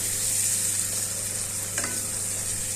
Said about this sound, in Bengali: দই আর মশলাটাকে ভালো করে একসাথে মিশিয়ে আবারও ভাজতে হবে।